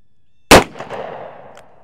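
A snubnose .357 Magnum revolver fires a single sharp, loud shot outdoors, followed by a short fading echo off the range.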